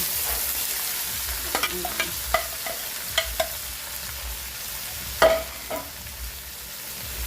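Cooked mung beans tumble into a pan and are stirred and sautéed, giving scattered scraping and clinking strokes over a soft, steady sizzle, with a sharper knock near the end; no one speaks.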